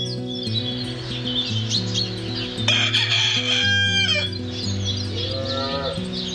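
A cow on a village farm lets out long, loud moos close by, with a rooster crowing in the background throughout.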